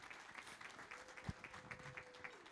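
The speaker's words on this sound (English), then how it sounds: "big, big round of applause?" Audience at a corporate fundraiser breakfast giving a round of applause, faint and somewhat distant, with a steady patter of claps and a brief low thump partway through.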